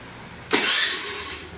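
A Honda Activa 4G scooter with a self-start fault cranks and catches after a quiet half second, then runs on at a steady, fairly loud idle with a broad hiss-like engine tone.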